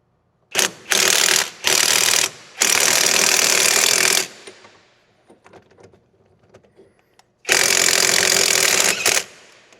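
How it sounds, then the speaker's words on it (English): A power tool drives a socket down and back along oiled tie rod threads on a 2009-2013 Toyota Matrix, giving loud, close whirring bursts that start and stop several times with a quiet gap between. "I'm just gonna get a socket. We're gonna put some cutting oil on here and just run it down and back a couple times"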